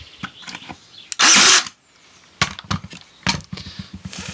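A Draper D20 cordless nailer fires a nail into hardwood with one short, loud blast, surrounded by quieter clicks and handling knocks.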